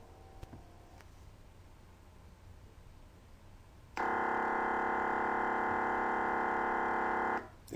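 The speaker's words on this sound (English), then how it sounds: "That noise was the reconstructed signal using the partials." A synthesized piano tone rebuilt from inharmonic partials starts abruptly after a quiet stretch, holding steady and loud for about three and a half seconds before cutting off sharply, with no talking.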